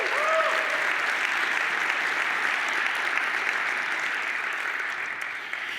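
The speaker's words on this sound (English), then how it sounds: "let's give them a big round of applause" Conference audience applauding at a React developer keynote, a dense steady wash of clapping that fills the hall, loud and sustained for several seconds with a brief tonal chime at the start and no speech over it.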